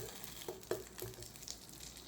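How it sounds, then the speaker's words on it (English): Two tablespoons of butter melt in a pan for chicken over rice, with a faint, steady sizzle and scattered soft pops close by. "Melt 2 tablespoons butter in a pan."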